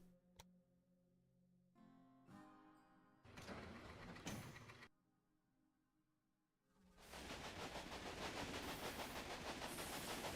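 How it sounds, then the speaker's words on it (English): A train video game plays railway sounds: a loud, dense rumbling run of trains on track dominates the last few seconds, after bursts of clattering game effects and a quieter stretch. "Now our trains are running in a big circle."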